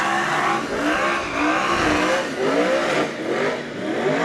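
A stock car's engine bounces on the rev limiter during a Wellington superstock and stockcar race, a loud, close, wavering engine drone whose pitch rises and stutters repeatedly over steady track noise.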